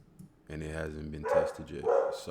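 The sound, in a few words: dog barking in the background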